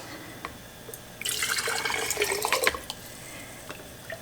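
Ham bone broth is ladled through a funnel into canning jars, a burst of pouring and splashing liquid lasting about a second and a half, close and fairly loud, with faint drips and clinks before and after.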